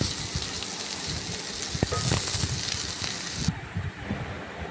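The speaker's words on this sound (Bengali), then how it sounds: "চানা পনির রান্না করছি" Chana paneer curry with ginger, chilli, tomato and capsicum sizzles and fries in a pan, a steady crackling hiss with scattered sharp pops running throughout.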